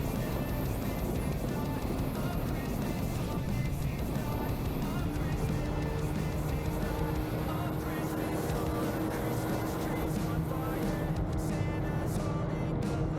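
Honda PCX160 scooter run at top speed, a constant engine drone buried under heavy roaring wind noise, loud and unbroken.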